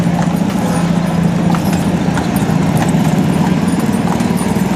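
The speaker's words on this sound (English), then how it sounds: "Three-horse hitch. That's what it's called, a three-horse hitch." A three-horse hitch of farm horses clip-clopping in a steady, loud stream of overlapping hoofbeats, close by, with no voices over them.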